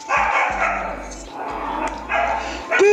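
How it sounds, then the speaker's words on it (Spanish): Several dogs bark and yip while biting balls, in loud repeated bursts across a few seconds that start and stop in clusters, near and busy. "¡Perros! ¡Dejen de morderse las bolas, por favor!"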